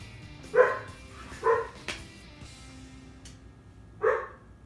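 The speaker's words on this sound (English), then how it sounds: "Stop barking, please!" A dog barks three separate times, sharp and fairly close, with quiet pauses between and no talking.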